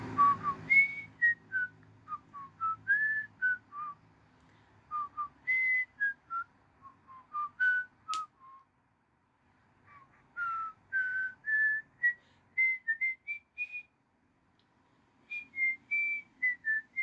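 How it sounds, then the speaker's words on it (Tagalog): A person whistles a lively tune alone, clear and close, in short melodic phrases with brief pauses between them. "Hulaan nyo to. Sipol ha."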